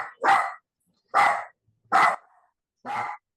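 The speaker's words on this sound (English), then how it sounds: "My dog Abigail has entered the chat" A pet dog barks four times, loud and close, each bark short and sharp with brief silences between them.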